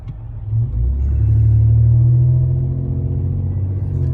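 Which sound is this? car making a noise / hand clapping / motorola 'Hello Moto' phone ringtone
car making a noise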